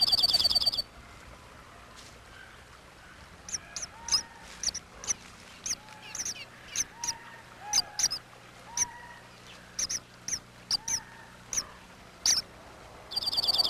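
Oregon juncos call near their nest in a high mountain setting: repeated short, thin chirps and tweets in irregular bursts, fairly close, over a quiet natural background.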